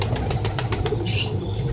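A flock of pigeons flutters in to land at a home loft, a rapid series of wingbeat bursts over the first second, then a softer rustle over a steady low background hum.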